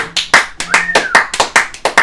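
About a dozen sharp hand claps ring out in an irregular, quick rhythm, loud and close, with a brief tone from a video game sounding between them.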